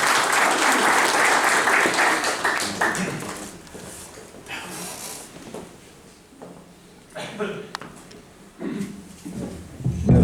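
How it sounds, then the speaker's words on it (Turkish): An audience at a World Poetry Day literary society event in Istanbul applauds as its honorary president is welcomed to the stage. The clapping is loud at first, then thins into scattered claps and some murmuring before swelling again briefly. "alkışlarınızla huzurlarınıza davet ediyoruz"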